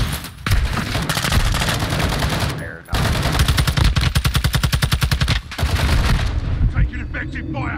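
Sustained automatic gunfire in Call of Duty DMZ, long rapid machine-gun bursts broken by short pauses, loud and close, with heavy booming shots throughout.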